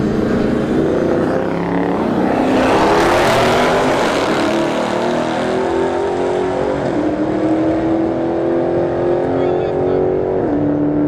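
A Dodge Scat Pack in the right lane and a Mercedes-AMG GT with a big rear wing in the left launch down a drag strip at a street-heat test-and-tune, loud, roaring engines climbing steadily in pitch over a voice.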